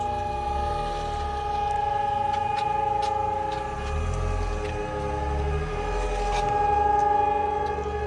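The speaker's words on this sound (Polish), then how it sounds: "A która to ta syrena?" A steady, sustained siren tone holds for several seconds during the "W" Hour commemoration in Sędziszów Małopolski, Poland, layered with rumbling low noise and a few faint clicks.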